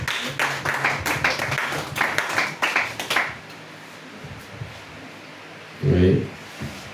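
A church congregation at a Sunday service claps and applauds in a quick, rhythmic burst for about three seconds, then quiets to room hush before a brief voice speaks.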